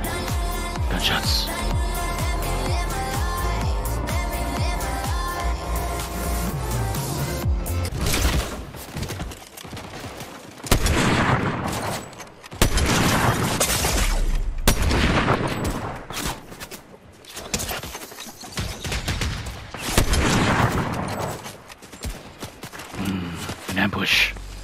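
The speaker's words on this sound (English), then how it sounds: "Gunshots." Gunfire from an ambush in a Batman game set in Gotham: a run of loud, sharp shots and bursts cracking out near and clear, mixed with voices and a music bed in the opening seconds.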